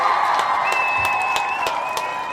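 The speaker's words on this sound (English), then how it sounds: "we want to give all of the Imani babies a round of applause" A crowd at a community toast-and-talk event applauds and cheers for the Imani babies, steady clapping filling the room with a few sharp whoops rising above it.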